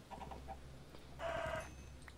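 Chicken clucking in a Minecraft game, a few short clucks followed by a louder, longer squawk, fairly close and alone without talk.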